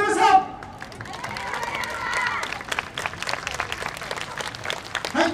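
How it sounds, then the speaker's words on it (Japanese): Audience applause at a yosakoi dance festival, a dense steady patter of clapping from a large crowd that rises and holds across the clip, with a few louder bursts near the start and end. "皆様に大きな拍手をお願いいたします。"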